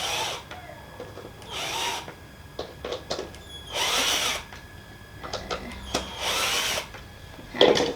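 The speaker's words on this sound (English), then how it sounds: "I'll just loosen up the screws." A power tool loosens screws on a full-length tufted mirror frame, several bursts of whirring drilling separated by short pauses and light clicks, close and moderately loud, with no talking.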